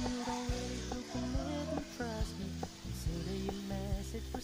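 Churros made in a Cecotec Mambo kitchen robot bubble and sizzle in hot oil, with a steady close crackle running throughout while a low mechanical hum and some clinking sit underneath.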